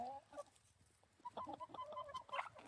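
Backyard hens, including an elderly one, clucking around a new enrichment toy, with soft calls at first and then a run of louder, close clucks near the end.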